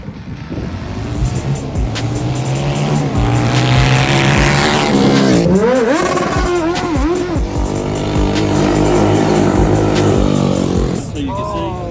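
A methanol-fueled Tillotson 288cc racing engine runs during break-in, loud and close, revving up and down with sweeping pitch changes, then settling to a rough idle; voices occasionally heard under it.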